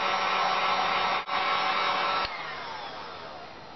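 A hair dryer blowing loudly and steadily on broken fragments. The airflow dips briefly once, then continues at a slightly lower, even whir, with no talk.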